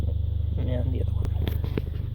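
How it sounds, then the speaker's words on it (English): A Mercedes-AMG A45 facelift engine idles with a steady, loud low rumble throughout, while someone talks over it. "So on idle, she's still quite loud."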